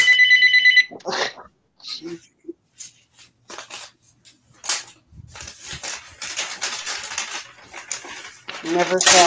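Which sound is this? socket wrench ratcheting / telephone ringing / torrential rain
telephone ringing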